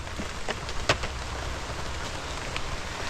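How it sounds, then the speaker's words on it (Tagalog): Steady rain falls outdoors near a river, a continuous hiss of drops on surfaces with a few sharper individual splashes and taps. "ngayon ulan"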